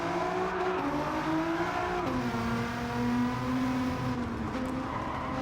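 A Nissan Silvia with a swapped engine, driven on a flying lap in Gran Turismo 7, revs hard and steadily. Its pitch drops sharply at two gear shifts before climbing again. The engine sounds loud and continuous throughout, with no talking.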